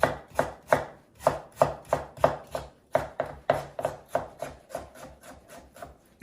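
A kitchen knife chops vegetables on a cutting board while Korean dishes for the first full moon holiday are prepared, giving a steady run of close, crisp thuds that slow slightly toward the end, with no talk.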